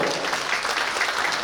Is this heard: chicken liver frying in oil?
no